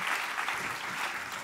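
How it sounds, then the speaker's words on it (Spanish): A studio audience at a live talk show applauds in a dense, continuous wash of clapping, moderately loud and steady for its brief length. "Un aplauso a Eva Gomero, que trató de hacer el paseo."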